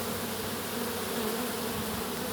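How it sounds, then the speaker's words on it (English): A honeybee swarm circles and settles back onto its hive, filling the air with a dense, continuous buzz of many wings up close, steady throughout with no voices. "This was a swarm issuing, and they were circling far and wide above, but they seem to have circled back down and come back onto the hive."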